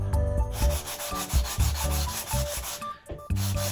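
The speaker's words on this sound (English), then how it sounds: "And I'm just using some 220 grit sandpaper." Balsa wood being sanded by hand with 220 grit sandpaper for a model rocket build, a steady close scratchy rubbing in repeated back-and-forth strokes with a brief pause near the end.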